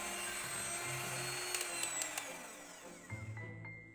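An electric hand mixer beats sponge cake batter at high speed, a loud continuous motor whine that shifts pitch, with brief rattling clatters against the bowl partway through.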